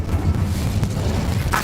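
A deep, rumbling whoosh of the Incendio fire spell cast in Hogwarts Legacy fills the whole moment, loud and sustained with no talking.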